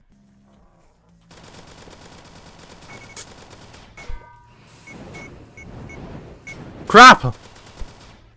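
Gunfire from a gun in the Roblox game WALL-E trash game, a loud burst of rapid shots near the end after quieter game sounds and beeps, with a player exclaiming briefly.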